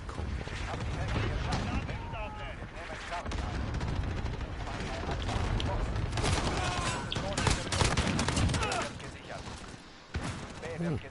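Dense bursts of automatic gunfire and single shots in Call of Duty Modern Warfare on PS4, crackling continuously at close range with a voice talking over the shooting.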